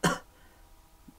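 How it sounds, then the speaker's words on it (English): A single sharp, harsh cough bursts out loudly right up close, then quickly fades into near silence. "coughing right into the mic."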